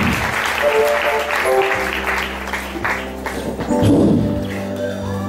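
A church congregation claps along in steady rhythm with singing voices and music, the clapping clear under the song.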